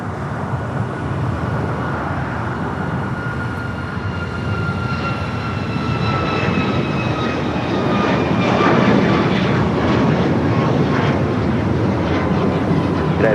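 A United airliner takes off from runway 25 right at LAX, its steady broadband jet roar swelling louder toward the end with no voices.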